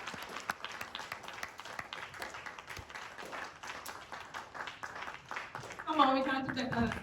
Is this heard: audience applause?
yes